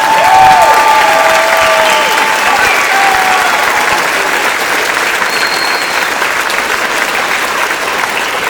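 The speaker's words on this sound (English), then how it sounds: "Let's give them a round of applause." Loud, sustained applause from a large audience at a school band winter concert, continuous clapping that gradually eases slightly over several seconds.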